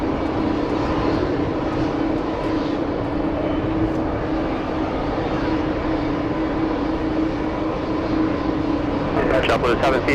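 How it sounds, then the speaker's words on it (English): Airplane engines roar and whine steadily at JFK airport, a loud continuous drone with a sustained tonal hum. A sharper burst rises near the end. "I'm hearing some engines here."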